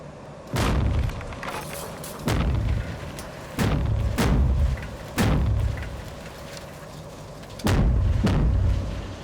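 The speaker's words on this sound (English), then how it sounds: "this bomb here, if you put in the house, can blow up after a couple of seconds" Blasts in an opal mine going off one after another, five or six heavy booms with sharp onsets and rumbling tails, loud and close, with short gaps between them and no talk.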